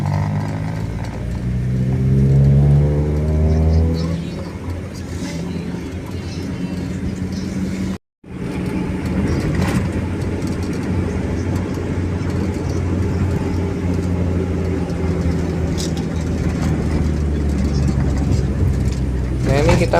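Diesel trucks and other traffic roll past on a road beside a petrol station in Indonesia, with a steady engine rumble and rising revs throughout, plus a brief dropout midway, while a person talks over the noise.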